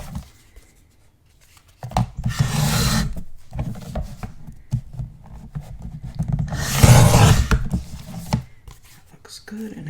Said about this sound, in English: just go ahead and give a trim.